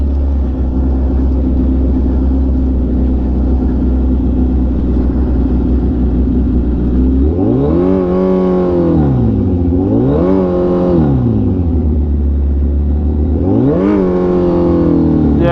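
A Suzuki Hayabusa engine at a track day idles in a steady rumble, then revs up and down in several sweeping surges, loud and close, with no talk over it.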